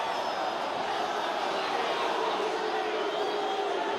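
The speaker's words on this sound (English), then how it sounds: "The home crowd roaring their side on" Home crowd at an Exeter City v Torquay United football match roaring steadily, a dense distant wash of voices sustained at even loudness throughout.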